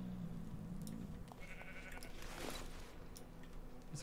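A nether sheep in the Minecraft game bleats, a few faint wavering calls under low background game ambience, quiet and somewhat distant.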